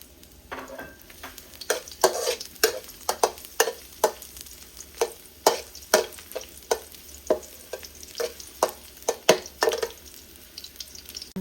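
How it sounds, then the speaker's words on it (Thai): Garlic frying in oil in a home kitchen pan, a steady sizzle under repeated sharp scrapes and clacks of a spatula stirring in a fairly even rhythm, close and clear, with no talking. "เทียมลงไปเจียวเลยค่ะ"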